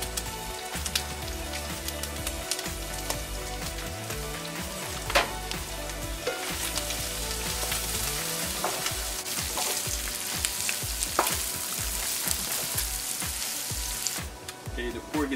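Pork sizzles and crackles in a pan with garlic and white pepper for adobo, a dense steady frying hiss with occasional stirring scrapes, fairly quiet and close.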